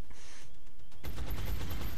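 Gunfire in XCOM Enemy Within, a quiet stretch then an abrupt burst of rapid shots and rumbling impacts that carries on to the end.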